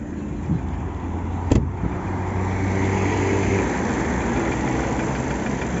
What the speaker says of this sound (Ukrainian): Двигунчик робить рівненько, не колотить його.